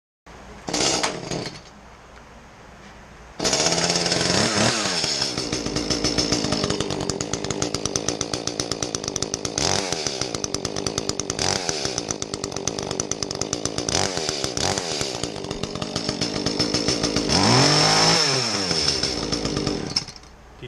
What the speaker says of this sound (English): you heard the way that the chainsaw ran at the beginning of the video. All muffled.